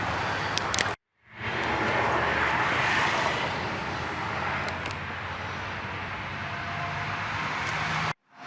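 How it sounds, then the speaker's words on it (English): Power drill boring holes for hood pins in the hood of a Pontiac Vibe GT, a steady continuous whine running for about seven seconds between brief pauses, close and loud with no talk. "Drill some holes."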